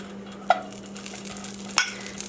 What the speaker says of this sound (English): I'm going to start by adding the butter